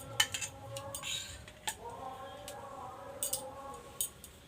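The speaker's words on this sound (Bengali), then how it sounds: "এই দিয়ে আমি মশলাটা দিয়ে মাংসটা মাখিয়ে নেব" Chicken meat is worked by hand in a metal bowl with a paste of ginger, dried and green chilli, garlic and onion, giving scattered clinks and taps of metal and utensils with soft squelchy mixing between them.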